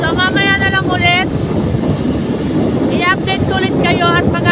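Strong wind buffets the microphone in a roaring, continuous rush on a provincial road trip. Voices and bright, whistling tones break through the noise in short bursts at the start and near the end.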